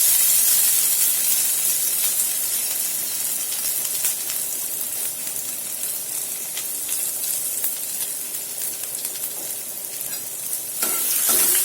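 Crushed fresh ginger-garlic paste frying in a little hot oil crackles in a loud, steady hiss with frequent stirring scrapes and ticks, heard alone and close.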